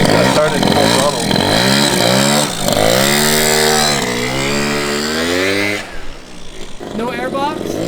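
A Derbi GP1 motorcycle with a Piaggio engine revs at full throttle nearby, the small engine's buzzing whine rising and falling loudly, then cutting out briefly before picking up again, with people talking over it.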